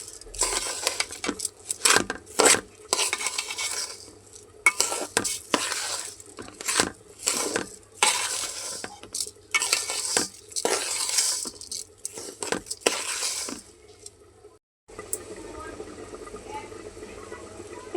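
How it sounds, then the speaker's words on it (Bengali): Rice with salt and spices being fried and stirred in a pan for khichuri, with a spoon scraping and clattering against the metal in an irregular rhythm, close and clear, with brief pauses. "এখন আমি ভালো করে চালটা ভাজিয়ে নিব।"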